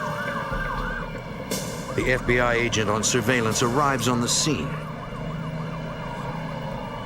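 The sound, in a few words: ambulance siren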